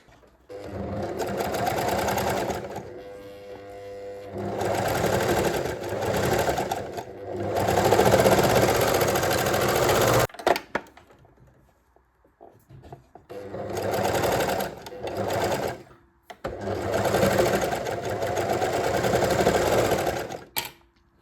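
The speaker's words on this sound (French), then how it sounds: "On va venir coudre ici et ensuite en une seule fois tout ça." An overlocker serger stitching the seams of a draped top, its motor whirring loud and steady in long runs, stopping briefly between passes with a near-silent gap in the middle before resuming.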